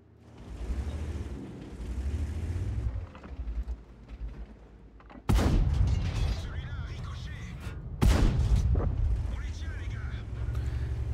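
Tank cannon fire in World of Tanks lands as two sudden, loud booms a few seconds apart, each trailing into a rumbling decay over a low engine drone and game noise.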